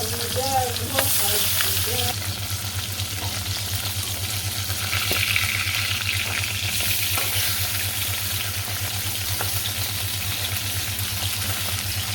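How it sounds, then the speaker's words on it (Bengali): Fish frying in hot oil in a wok, giving a loud, continuous close-up sizzle that holds steady throughout with scattered crackles and a low background hum, no speech. "তেল গরম হয়ে গেছে এখন মাছ দিয়ে দিই"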